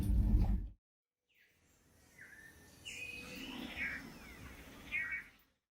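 Wild birds call in the open, a few short chirps and rising whistles at moderate distance after a brief burst of other sound, with no talking.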